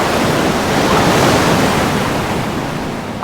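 Loud ocean surf rushes in a broad, continuous wash of crashing waves with a windy roar, close and steady before easing slightly toward the end, with no voices.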